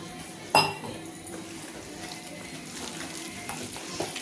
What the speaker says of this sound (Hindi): ऐसे ही हम इसको फेंट लेंगे